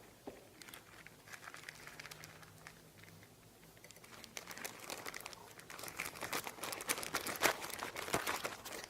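Plastic bag being handled and shaken as a makeshift pastry bag while making donuts: close, irregular crinkling and rustling that keeps going and grows busier and louder toward the end, with no talking.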